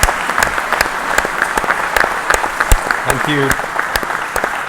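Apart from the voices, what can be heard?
audience applause for three speakers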